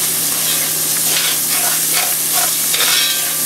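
Bacon frying in a pan for a beef burgundy roast, a steady close sizzle and crackle with scattered pops and spatters throughout, no voices.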